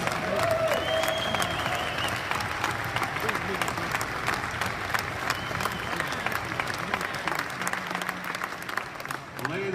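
Sustained audience clapping for developers at a launch event in Amsterdam, steady crowd applause with music and voices mixed underneath, dipping briefly near the end.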